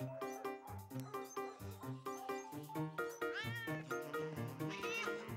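A cat meows over a busy, melodic backdrop of music, its cries rising and bending among the notes, fairly quiet overall.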